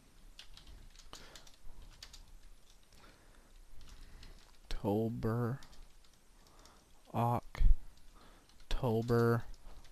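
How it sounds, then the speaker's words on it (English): Typing on a computer keyboard during a Perl programming tutorial, soft irregular key clicks running quietly through most of the stretch, interrupted by bursts of speech from a nearby man. "I'll just type in, and this won't be printed"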